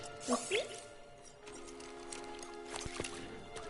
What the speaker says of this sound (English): Ozzy, why did you just sit in the water?